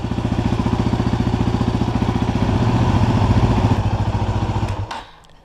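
A Yamaha WR250R dirt bike engine runs steadily after an oil change, a loud close rhythmic thumping idle that holds for several seconds before being shut off and fading out at the end.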